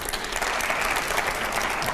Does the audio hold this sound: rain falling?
no